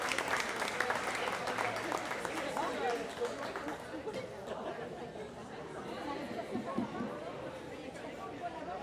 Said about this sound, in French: Oui, oui, on peut l'applaudir.